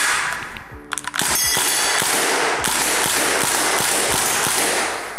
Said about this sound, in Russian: Она стреляет у нас сталюгой.